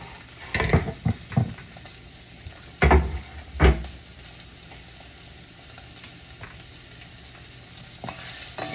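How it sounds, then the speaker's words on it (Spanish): Onion, chili pepper and garlic sautéing in a pan as they are stirred, a steady close sizzle with several louder scraping stirs near the start and middle, no voices. "vamos a mover hasta que la cebolla bote un poco su sabor y tome una apariencia transparente"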